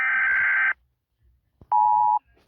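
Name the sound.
United States EAS emergency alert alarm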